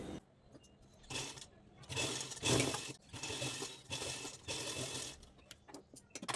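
Sewing machine stitching along the folded edge of blouse fabric, in several bursts of whirring run separated by short pauses, close and fairly loud, with no talking.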